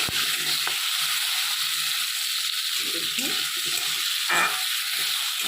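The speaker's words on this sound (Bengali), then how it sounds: "আলুটা দিয়ে দিলাম আলুটা ভালো করে আমি নাড়াচাড়া" Potatoes sizzle steadily as they fry in a pan, with stirring scrapes mixed in throughout and a person speaking quietly over the constant hiss.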